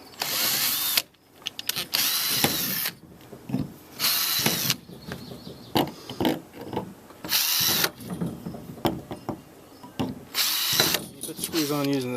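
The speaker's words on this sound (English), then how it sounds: "now I'm going to pre-drill for the screw holes" Cordless power drill pre-drilling screw holes in the plastic panels of a Lifetime 80-gallon compost tumbler: repeated short whining bursts of a few seconds each, separated by pauses, close to the microphone, with faint handling clatter between them.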